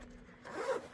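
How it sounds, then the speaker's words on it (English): A zipper on a soft kit bag holding a Corvette headliner repair kit is pulled open in one steady, rasping stroke, close and fairly loud, building toward the end with no talking over it. "Let me get the zipper."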